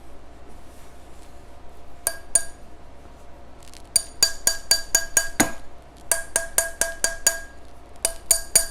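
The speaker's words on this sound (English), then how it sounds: "let's put it on the mandrel. We'll give it a few taps." A soldered jewelry ring is tapped on a steel mandrel in bright, close metallic clinks, first a couple of isolated taps, then quick runs of five or six, with no talking.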